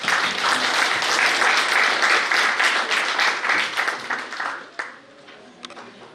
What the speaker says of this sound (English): Ladies and gentlemen, a big round of applause.